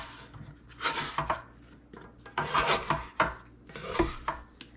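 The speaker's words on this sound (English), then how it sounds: "I'm gonna scrape the sides real good" Spatula scraping the sides of a mixing bowl of whole wheat bread dough just after mixing, heard as three or four rasping, rubbing strokes in bursts, close and fairly loud with no talking.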